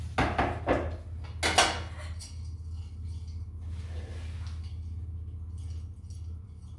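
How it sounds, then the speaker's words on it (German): Chocolate pieces scattered onto brownie batter in a home kitchen, a few quick clattering taps close up, followed by quieter handling noises over a steady low hum. "Und jetzt kommen noch die Schokostückchen drauf."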